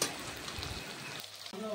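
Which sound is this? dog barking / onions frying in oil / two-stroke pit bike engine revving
onions frying in oil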